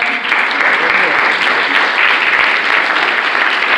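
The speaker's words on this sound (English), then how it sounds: "another round of applause" A crowd at a listening party gives a round of applause, thick continuous clapping that stays loud and even throughout.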